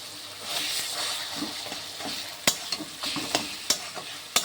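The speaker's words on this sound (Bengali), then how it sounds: "ভাজা হয়ে গেছে, আমি তার মধ্যে বেগুনটা ছেড়ে দিলাম।" Eggplant fries in a pan with spices, a close steady sizzle overlaid by wet stirring swishes and several sharp spoon clacks against the pan.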